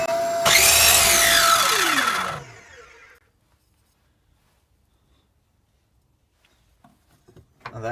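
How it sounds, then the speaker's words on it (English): Chop saw cutting a stick of wood at an angle, a loud whining burst of about two seconds that winds down as the blade slows, then near silence with faint clicks. "So now I need to cut it on the chop saw."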